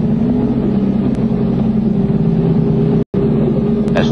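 Army tanks roll down Pennsylvania Avenue alongside mounted troops, a loud, continuous low engine rumble and drone that cuts out for a split second before resuming.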